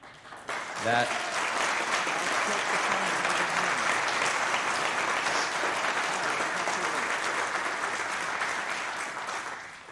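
A banquet audience at the Abraham Lincoln Association applauds a speech, a loud, sustained wash of many hands clapping that fills the whole stretch without letup.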